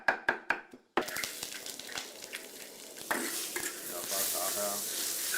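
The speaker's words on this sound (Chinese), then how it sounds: "翻炒至5成熟" Diced taro and shiitake mushrooms stir-fried in a hot wok: a few sharp clanks, then a loud, steady sizzle with scraping stirs that grows denser toward the end, close up and with no talking.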